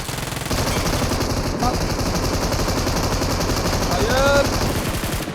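Sustained M249 light machine gun fire in PUBG Mobile, a fast continuous stream of close, loud bursts running through nearly the whole stretch, with faint chirping tones near the end.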